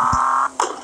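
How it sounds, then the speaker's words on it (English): A car horn sounds a loud, steady beep lasting about half a second, then cuts off briefly before a second short blast begins. "Beep the horn."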